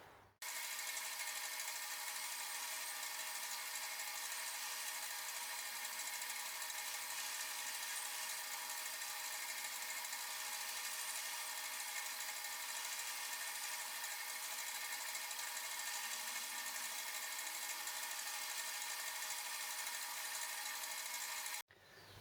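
A metal lathe cutting an angle on a tap follower gives off a steady, continuous high whine and hiss from start to finish, close and unbroken, then stops abruptly.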